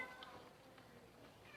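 A pet cat meows faintly in the distance while wanting to come into a home where liquid fabric softener is being made, with a couple of soft cries over quiet background.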